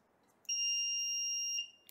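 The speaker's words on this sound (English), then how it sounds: "It's a buzzer." A single loud, shrill electronic buzz from a buzzer on a DIY Zigbee plant watering station, held steady for about a second, starting and stopping abruptly in a quiet room.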